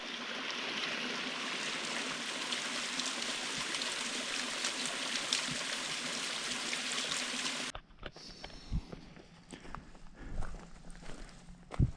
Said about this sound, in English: many streams coming down off the mountain.